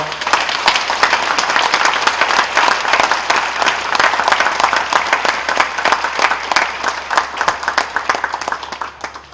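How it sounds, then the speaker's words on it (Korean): A congregation on its feet gives loud, sustained applause at a Korean Presbyterian Day commemorative worship service, dense clapping filling the room evenly from start to finish. "한번 일어나시면 다 같이 크게 한번 박수하겠습니다."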